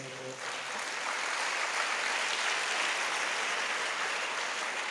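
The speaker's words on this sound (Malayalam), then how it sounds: "അവർക്കിഷ്ടമായി എന്നുള്ളൊരു സൂചനയാണ് മനോഹരമായ കൈയടി വെച്ച്." A church congregation at St Francis Xavier Forane Church, Karukutty, breaks into steady, dense applause that swells quickly after a brief moment of voice and then holds at an even, full level.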